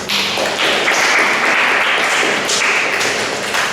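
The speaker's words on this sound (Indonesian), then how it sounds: "Berikan tepuk tangan dong." A classroom of students claps together in a lesson, making dense, steady applause that stays loud and even for several seconds with no voices over it.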